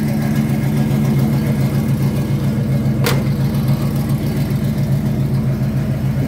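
A 1978 GMC Caballero's 400 small-block V8 with dual Magnaflow exhaust runs in a steady, loud, throbbing idle close by, with a single sharp click partway through and no talking.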